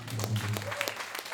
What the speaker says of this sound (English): Can we applaud a little louder before I keep going?